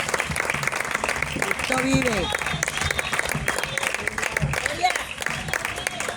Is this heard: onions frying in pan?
no